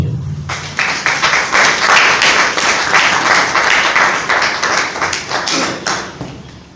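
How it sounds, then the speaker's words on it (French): An audience claps in sustained applause at a certificate ceremony for a first graduating class, a dense crowd of hands swelling quickly and tapering off after several seconds. "Est-ce qu'on peut applaudir?"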